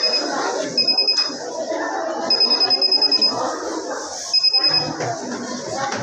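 Homemade ultrasonic obstacle detector for blind people, shown as a school exhibition project, sounding a high repeated beeping alarm in three short bursts over loud crowd chatter and voices.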